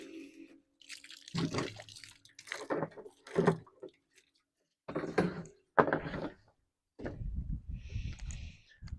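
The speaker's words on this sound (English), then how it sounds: "So let's get some water filled up here." Water runs into a container on a muddy farm while chores are done for chickens, in several separate bursts of splashing and pouring with short silent gaps and a few knocks.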